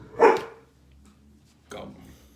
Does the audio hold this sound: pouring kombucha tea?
no